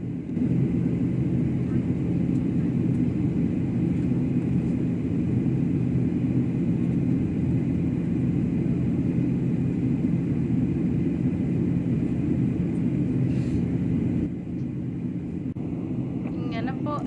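Steady, loud low rumble of an airliner cabin in flight to Jeddah, Saudi Arabia, a constant drone with a faint airy hiss that holds unchanged for the whole stretch and dips slightly near the end.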